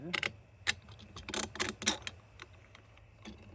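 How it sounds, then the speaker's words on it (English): A stainless steel bolt and nut falling on a hard surface, making a quick run of sharp metallic clicks and small bounces near the start and middle, then a couple of fainter ticks, close up with no talking. "stainless steel bolt and nut, which I just dropped"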